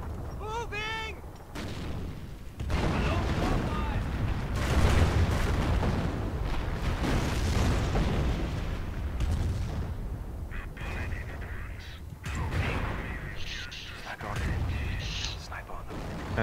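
Incendiary artillery barrage in the World War II strategy game Company of Heroes, with heavy rumbling blasts and crackling fire across the battlefield, loud and continuous, while voices talk over the din.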